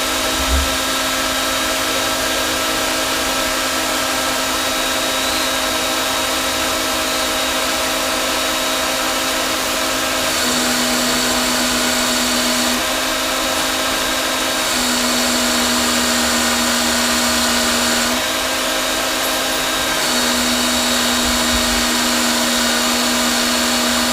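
Steady, loud whir of an electric power trimmer cutting .223 brass cases, running continuously with slight pitch shifts as each case is trimmed, no talking.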